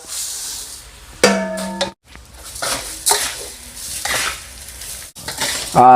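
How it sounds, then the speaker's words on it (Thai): Rice is stir-fried in a pan with garlic and coriander root for Thai chicken rice, a spatula scraping and clanking against the metal while oil sizzles steadily underneath, loud and close. "เราก็นำข้าวของเรานะฮะ นี่นะครับ ลงไปผัดเลยนะครับ"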